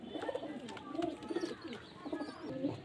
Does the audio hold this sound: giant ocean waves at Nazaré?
no